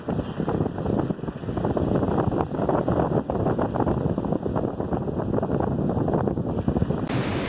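Loud, continuous roar of heavy surf at South Padre Island with heavy wind buffeting the microphone, waves crashing in a dense wash of noise.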